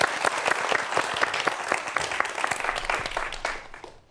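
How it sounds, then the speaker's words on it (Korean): Applause from a lecture audience welcoming a police administration professor, individual claps distinct and fairly close, steady for a few seconds before fading out at the end. "곽대경 교수님의 강연 박수로 청해 듣겠습니다."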